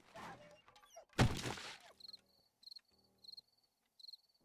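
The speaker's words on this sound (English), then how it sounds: "Oh, crickets." Crickets in the Darkness Falls video game chirp in short, evenly spaced bursts, quiet and close, following a louder thump and some rustling at the start.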